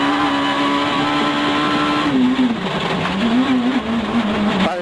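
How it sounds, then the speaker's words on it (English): A Citroën C2 rally car runs flat out on a special stage, its engine screaming at high revs in a sustained loud drone that dips and rises as the driver shifts and lifts. "Prokop's Citroën C2 was flat out"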